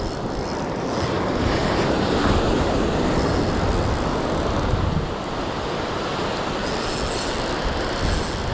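Surf breaking on the shore while a fish is reeled in on a rod at the coast of Salalah, Oman: a loud, continuous roar of waves, swelling around the middle and easing a little toward the end, with no talk.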